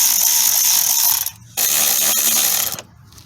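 A ratchet loosens the 8mm bolt of a hose clamp near the intake manifold of a Nissan Titan, producing close, rapid clicking in two bursts broken by a brief pause.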